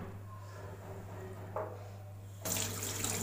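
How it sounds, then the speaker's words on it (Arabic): Water runs from a kitchen tap in a steady, soft stream while fish is rinsed and cleaned underneath it by hand. The flow grows louder and brighter partway through as the water hits the fish more directly. "تحت الحنفية بقى وبنغسلها"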